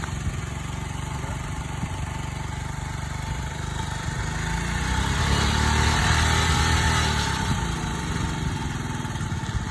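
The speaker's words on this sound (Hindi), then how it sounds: "हाँ रेस देना।" A motorcycle engine runs continuously and close, its steady mechanical drone swelling in a rev around the middle before settling back to idle, with no voices over it.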